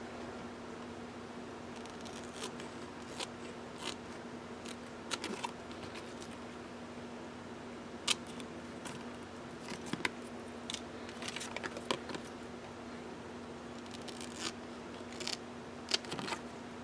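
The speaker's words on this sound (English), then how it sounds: "Now I'm just going to trim up around this area with my scissors." Crisp scissor snips cut intermittently through paper planner tabs, irregular and close, over a steady low electrical hum.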